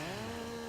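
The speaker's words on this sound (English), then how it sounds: "it is a lot more difficult to de-branch these trees with the chainsaw" A chainsaw runs steadily in Farming Simulator 19 while de-branching felled trees, giving a continuous engine drone that holds at a constant pitch for the whole short stretch, close and fairly loud.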